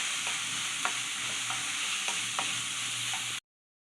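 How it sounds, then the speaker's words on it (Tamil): Capsicum poriyal with grated coconut is stirred in a hot pan, giving a steady frying sizzle with a few soft spatula scrapes and clicks, close and even, with no talking. "இதையும் சேர்த்து நல்லா கிளறி விட்டுக்கலாம்."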